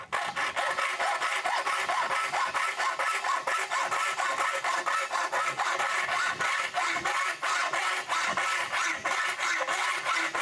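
Steel edge of a pedal car's rear mud guard being filed from a square cut to a radius by hand, a fast, steady run of rasping file strokes, fairly close and even, with no speech.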